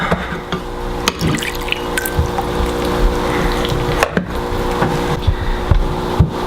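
Water drips and trickles from a Jensen 76 steam engine under repair, with small wet taps and clicks over a steady low hum.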